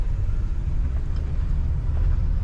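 A 1978 Lincoln Continental Mk V Designer Series with a column-shift automatic cruises along a road, giving a steady, heavy low rumble of engine and tires that holds even throughout with no one talking.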